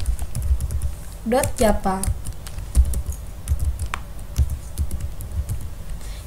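Keys clatter on a computer keyboard while a Java hello-world file is typed into Notepad, a steady run of soft close clicks under a continuous voice speaking over it.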